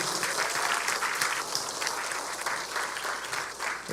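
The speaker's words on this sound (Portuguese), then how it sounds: "Dá um aplauso para essa galera toda aí" An audience at a church talk applauds the seminarians with dense, sustained clapping that stays loud and even for the whole stretch, with no voice over it.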